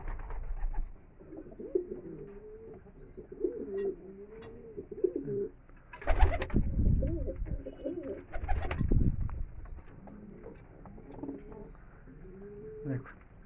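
A caged Madrasi pigeon, restless and agitated, coos in repeated low warbling phrases, close up, broken midway by a couple of louder rustling bursts, with a voice speaking briefly.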